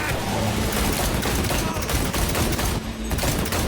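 Dense automatic gunfire in the video game Cyberpunk 2077, a loud, continuous barrage of rapid shots with brief dips, close and intense, with a voice faintly mixed in.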